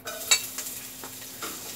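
Ginger and garlic sizzle in a pan for culetis, a soft steady frying hiss broken by a few quick stirring scrapes and one sharp clink close by.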